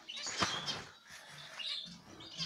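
Zebra finches in a cage, including a chestnut-colored bird and a standard gray one, giving quick soft chirps and short tweeting calls, close by and fairly quiet, with no voices present.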